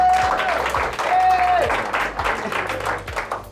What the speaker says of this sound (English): she needs a good round of applause from the people.